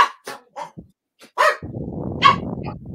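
Dogs barking indoors, several short sharp barks close by followed by a rougher, sustained stretch of barking and yelping, heard without speech.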